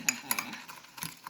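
A spoon clinks and scrapes against a bowl while stirring chocolate chip cookie cake batter for a microwave cake, a few quick, faint metallic taps close by.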